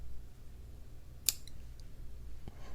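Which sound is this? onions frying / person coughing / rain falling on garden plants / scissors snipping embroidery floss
scissors snipping embroidery floss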